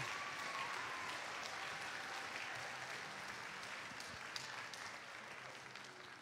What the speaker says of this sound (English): let's go ahead and give them one really big round of applause right now.